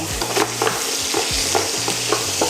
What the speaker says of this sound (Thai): จากนั้นเราใส่เนื้อที่หั่นเต๋าลงไป เปิดไฟแรงเลย ลงผัดแค่พอสีสวยนะคะ